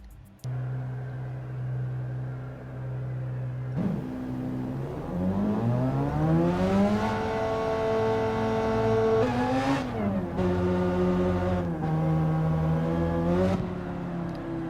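A car engine in the racing game Gran Turismo 7 idles, then revs up through the gears with rising and falling pitch and several shifts, loud and steady with no talk over it.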